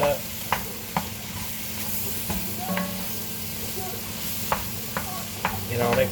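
Bolognese meat mixture browning in a pan, a steady sizzle with occasional scrapes and stirring clicks throughout, fairly close, with no talking.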